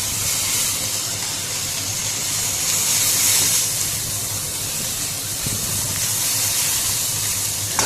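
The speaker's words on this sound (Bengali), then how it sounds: "এখন ভাতগুলো এইভাবেই ভালোভাবে ভেজে নিতে হবে।" Leftover rice fries in a hot pan with a steady, loud hiss and sizzle that keeps going with little change throughout.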